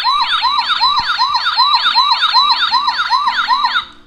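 A new toy police car sounds its electronic siren, a loud, steady repeating wail with rapid rising sweeps cycling about every half second, close and continuous with no talking, cutting off at the end.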